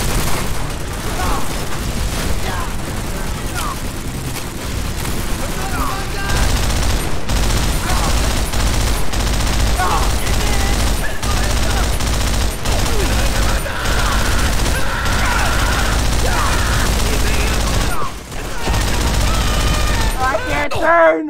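Sustained machine gun fire and explosions in a World War II shooter, Call of Duty: World at War, forming a dense, loud, nearly unbroken barrage with occasional booms and shouted voices mixed in throughout.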